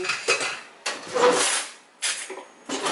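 A spoon stirs pasta and broccoli in a pot: several scraping, clattering strokes of metal against cookware, close and fairly loud, in uneven bursts with short pauses between.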